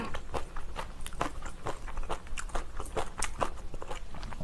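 Close, crisp crunching and wet chewing of spicy kimchi and Anseong-tangmyeon ramen in a mukbang, with rapid irregular bites repeating steadily throughout, loud and intimate with no talking.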